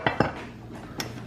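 A metal loaf pan holding a light doughnut-flavored cake mix is flipped over, giving two quick close clanks followed by a softer knock, with no talking.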